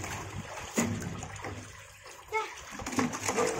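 Water gushes and splashes in a fish hatchery, a near, uneven rush with bursts and bubbling, while birds coo in the background.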